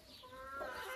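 Backyard free-range hens clucking softly, a short run of throaty, murmuring clucks at a distance, quiet and alone without any voices.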